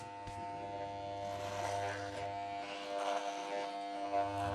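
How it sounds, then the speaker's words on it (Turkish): A boy's hair is cut at home with an electric clipper, a steady close buzzing hum with a low drone that dips slightly as the blades press into the hair. "Bak annem nasıl tıraş ediyor."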